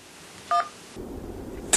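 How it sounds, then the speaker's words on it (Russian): A telephone keypad press sends a single short DTMF tone, clear and moderately loud, followed by a faint line change and another brief tone at the end. "Оцените доброжелательность сотрудника с помощью кнопок телефона от 1 до 5"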